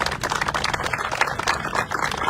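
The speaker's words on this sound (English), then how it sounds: "let's give those 4 people a round of applause" Dense, steady applause fills a crowded room at a public transit funding announcement for BART Silicon Valley, a close, even wash of many hands clapping with no talk over it.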